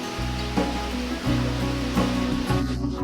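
Central waterfall and surrounding stream on a landscaped pedestrian promenade in Pioneer Square, Seattle, giving a steady, full rush of falling and flowing water that is close and continuous throughout.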